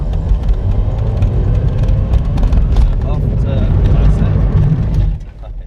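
A car on a stunt driving course doing a handbrake spin, its engine rumbling and tyres scrubbing as it slides, then the noise dropping away as it comes to a stop near the end.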